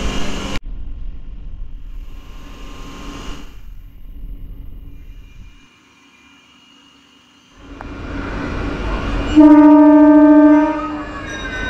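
MEMU passenger train departing Mettupalayam station, a steady rumbling run that drops away into near quiet, then builds again and ends with a loud sustained horn blast.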